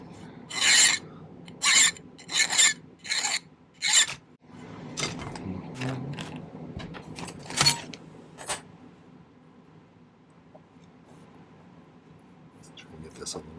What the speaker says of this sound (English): So let's file it flat.